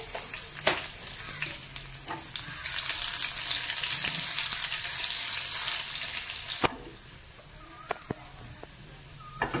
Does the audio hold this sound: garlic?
yes